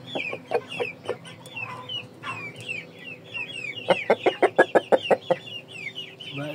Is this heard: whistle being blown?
no